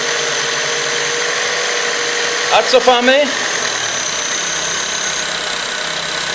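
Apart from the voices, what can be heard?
Opel Corsa 1.4 engine idling after idle adjustment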